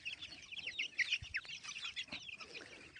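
Young chicks forage in grass, giving a steady stream of high, thin peeping chirps at close range, scattered and overlapping for the full few seconds with no talking.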